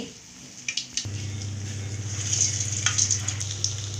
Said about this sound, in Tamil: இப்போ நம்ம ஒன்று ஒன்றா போட்டு பொரிச்சு எடுத்துக்கலாம்.